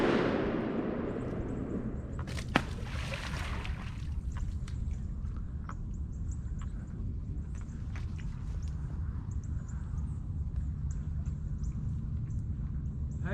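A shotgun blast during a duck hunt in Arkansas, one sharp distant-sounding report over steady outdoor wind and rustling, followed by low ambient noise and faint movement.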